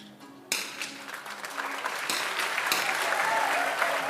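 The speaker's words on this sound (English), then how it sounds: "Coleman gets a big applause as he starts with a 10-4." Applause from the crowd at an ISSF 50m rifle three-positions shooting World Cup in Bhopal, India, bursting in sharply after a quiet moment and then holding as steady, full clapping throughout.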